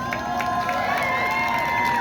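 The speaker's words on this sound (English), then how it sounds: "give them a large round of applause" A crowd at a rally applauds and cheers, dense clapping mixed with shouts and whoops, loud and continuous over a short stretch.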